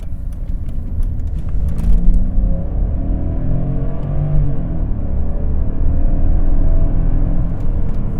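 A 2000 Mercedes-Benz S500 W220 engine revs up, a smooth, loud, continuous rumble rising steadily in pitch and holding high with no talk over it.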